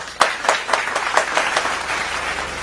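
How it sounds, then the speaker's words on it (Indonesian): Audience claps to welcome guest performers Slice and Axel on a show, a few sharp distinct claps quickly swelling into scattered group applause that fades out. "Tepuk tangan buat mereka."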